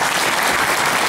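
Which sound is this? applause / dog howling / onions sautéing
applause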